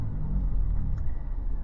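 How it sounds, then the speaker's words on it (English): Low, steady road rumble and engine hum from inside a Grab taxi riding through Pattaya, Thailand, a continuous cabin drone with no voices and only a faint brief tick partway through. "Sitting inside a Grab taxi."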